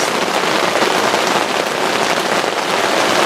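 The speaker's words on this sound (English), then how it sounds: "I'm not even trying to be quiet because I know they can't hear me over the rain" Heavy rain pours down steadily during a storm on an opening-day rifle whitetail hunt in Oklahoma, a dense, loud, unbroken roar of drops close by with no voices.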